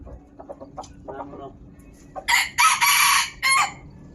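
A rooster on a farm crows loudly close by, giving one long strained crow followed by a shorter one. Before it, someone speaks briefly and faint clucking can be heard.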